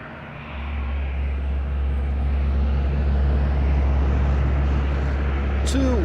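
An Airbus A321 airliner roars in a steady, loud low rumble while landing at Madeira Airport, the engine noise building after a quiet start, with a brief high whine near the end.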